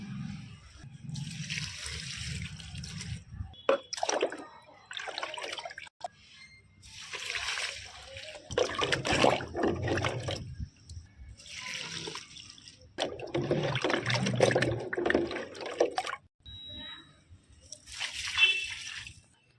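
Liquid papaya fertilizer mixed into water is poured onto a potted plant's soil, giving intermittent splashing and trickling bursts with sloshing between pours, fairly close and moderately quiet.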